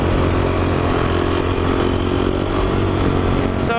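A supermoto motorcycle doing a wheelie in a tunnel, the engine roaring loud and close with a steady, dense drone that echoes off the tunnel walls throughout.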